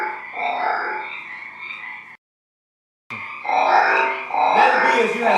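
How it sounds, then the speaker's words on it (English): Frogs croak loudly in a dense, raspy chorus of overlapping grunting calls, broken by a sudden full stop of about a second before the croaking resumes even louder, with no talking. "Just get these frogs out of here."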